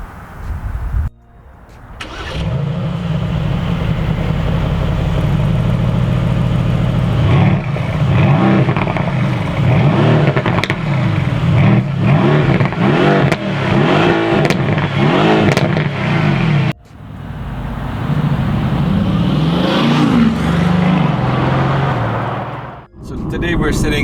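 A red 2020 Mercedes-AMG GT sports car drives with a loud, close engine note that rises and falls through revving accelerations. There is a brief dip partway through before the engine pulls hard again, and people talk over it.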